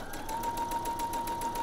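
Sewing machine stitching elastic onto fabric for knickers, a steady rapid needle rhythm running close and continuous with a faint motor whine, no voices.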